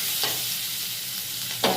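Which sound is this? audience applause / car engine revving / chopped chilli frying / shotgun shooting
chopped chilli frying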